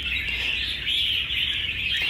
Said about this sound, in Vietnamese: nó chóe đè lại luôn anh em